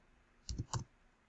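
Two quick computer mouse clicks in close succession, crisp and near against quiet room tone, made while building a measure in Power BI.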